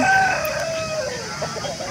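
A Tamil Nadu Salem breed rooster, a healthy bird about one and a half years old weighing 3 to 3.5 kg, crows loudly and close by at a market, one long call that trails off under background noise.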